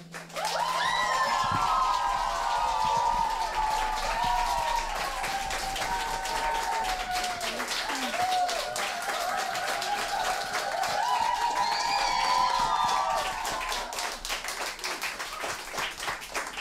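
Steady, dense clapping from a concert audience fills the space after a youth music camp's final performance, with scattered cheers and calls rising over the continuous applause.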